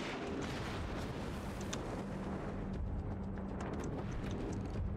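Heavy naval gun salvos boom and rumble in a warship battle game, a dense continuous roar of low thunder with scattered sharper cracks and no voices.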